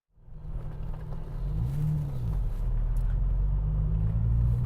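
A Volkswagen Golf VR6 AWD Cabriolet drives past or away, its engine rising from silence into a steady low rumble that holds and grows slightly louder, with no voices.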